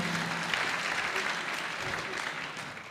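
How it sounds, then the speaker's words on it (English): Steady, dense audience applause at a Pan-African dialogue event in Lukenya, continuous clapping from a sizable crowd holding a fairly even level throughout. "Let us clap for that team once more."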